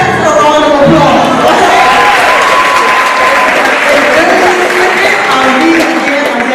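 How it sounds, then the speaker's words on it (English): Loud, dense audience applause for the parents at a beautillion ceremony, steady throughout with scattered cheers and voices in the crowd. "So give the parents a round of applause."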